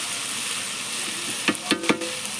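Onions, tomato and capsicum fry in a pan over a wood fire, a steady close sizzle broken near the end by three quick clacks of stirring.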